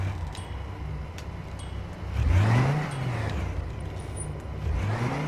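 Engine of a car driving in the Track Mania Canyon racing game, a steady low drone with pitch sweeping up and down as it revs and shifts, loud and continuous, with no talking.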